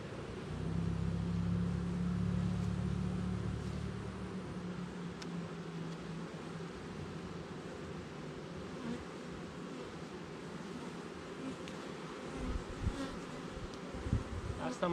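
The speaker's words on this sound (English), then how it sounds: "there's a bunch of bees in the super as well" Honey bees swarm around a beehive super, a close, continuous buzzing drone that stays steady and dense throughout, with occasional louder individual bees passing near and faint handling knocks toward the end.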